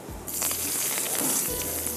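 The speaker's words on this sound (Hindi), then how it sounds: "अब इसके ऊपर जाएगा तड़का।" Curry leaves, black peppercorns and cumin hit hot oil for a tadka, a loud, steady close-up sizzle that holds at full strength with no talking.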